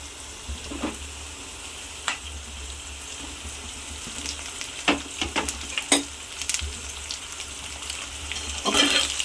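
Pieces of drumstick (moringa) frying in a pan for a drumstick and tomato curry, giving a steady low sizzle with scattered crackles and stirring clatters that grow busier toward the end, close and alone.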